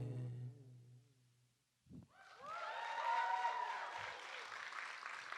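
Following a song performed on a university talk show, sustained applause from an audience swells in after a short pause, several hands clapping fairly steadily at a modest level, with cheering voices mixed in.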